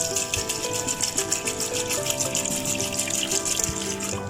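Water pours steadily into a pressure cooker holding chickpeas, a continuous close gushing splash with a faint rhythmic fluttering, no voices.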